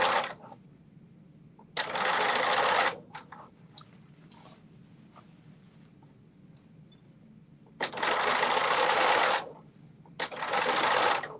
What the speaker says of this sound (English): So now I'm just working on the other side. Just sewing it down.